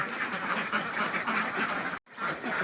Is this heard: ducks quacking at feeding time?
yes